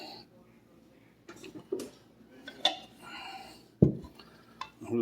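Utensil scrapes and clinks against a bowl as Reuben dip with sauerkraut and cream cheese is mixed, with scattered irregular knocks and one sharp louder clatter near the end, close and moderately quiet.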